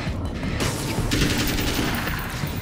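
Heavy-recoil gun fires in the video game Alan Wake's American Nightmare, a dense burst of loud, close shots and booms blending with game background noise over a couple of seconds.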